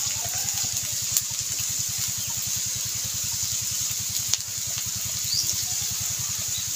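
Spices with cumin paste, salt and turmeric fry and get stirred in a pan for samosa filling, giving a steady, even sizzling hiss over a low, rhythmic droning hum throughout, with no talking.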